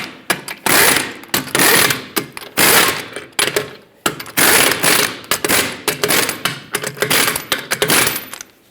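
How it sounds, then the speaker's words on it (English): Ratchet-style wrench working the wheel lug nuts of a 2010-2017 Chevrolet Equinox in a cross pattern, loud close bursts of fast clicking with brief gaps between strokes, no talking. "we're going to torque them to 140 foot-pounds"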